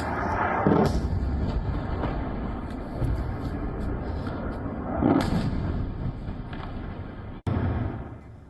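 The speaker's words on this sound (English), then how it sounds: "Hamas fired rockets into Israel from the Gaza Strip" Rockets launched from the Gaza Strip toward Israel, heard as a series of distant booming thuds spaced a few seconds apart over a steady rumbling background.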